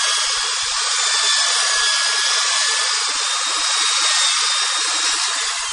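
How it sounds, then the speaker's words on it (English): A power drill whines continuously at high pitch, boring out a golf club hosel, grinding steadily through material for several seconds with no talking. "So we're going to drill a little bit more."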